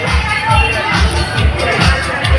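An audience of a Filipino team event claps and shouts together in a dense, continuous crowd roar with rhythmic low thumps, loud and close throughout.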